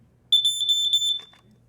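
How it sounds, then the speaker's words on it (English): A Jameson smoke alarm gives one short, very high-pitched electronic shriek lasting under a second, pulsing slightly, then cuts off, followed by a faint click of handling. "Very high-pitched as usual for Jameson alarms"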